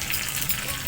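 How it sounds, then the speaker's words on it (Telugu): A hot tempering with asafoetida is poured into a pot of sambar, producing a short, close burst of hissing sizzle. "ఇప్పుడు ఒక్కసారి గరిటె ఇలా కలిపేసుకుని ఇలా సాంబార్లో వేసేసుకోండి తాలింపు"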